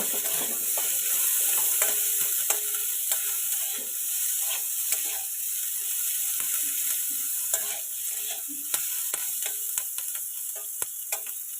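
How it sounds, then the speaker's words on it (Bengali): Chopped onions sizzle steadily in fish oil in a kadai while a utensil stirs them, with scraping clicks and taps scattered over a continuous hiss, close and alone without talk. "পেঁয়াজ কুচি দিয়ে দিলাম পেঁয়াজটা আমি হালকা হালকা ভেজে নেব"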